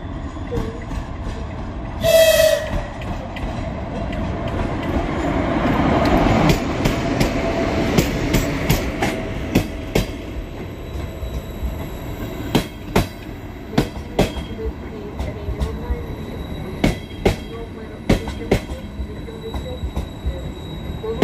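ChS8 and ChS4 electric locomotives and trains move through Kyiv-Pasazhyrskyi station with rumbling wheels, a brief high squeal, then a long run of sharp rhythmic rail clicks and clanks.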